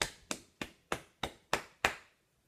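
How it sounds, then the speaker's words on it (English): Students in a classroom clap for a substitute teacher, giving seven sharp, evenly timed claps close by, each ringing out briefly before the next, with no speech. "Keep clapping."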